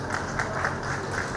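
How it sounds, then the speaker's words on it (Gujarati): An audience at a Rajkot gathering bursts into applause to honour a visiting guest from Jammu and Kashmir, a brief, dense wash of many hands clapping at a steady level. "જોરદાર તાળીઓથી આપણે એનું સન્માન કરીએ"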